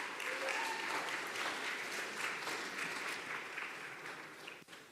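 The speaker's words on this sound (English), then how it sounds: "Another round of applause" A church congregation claps through a steady round of applause during a Sunday celebration service, a continuous, fairly even patter of many hands that thins slightly toward the end.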